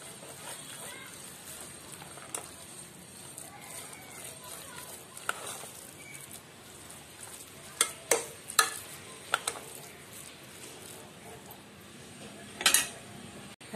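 Moong dal khichdi ingredients are mixed in a pan, with quiet scraping and occasional metallic clinks of a ladle, grouped in short bursts over a low background.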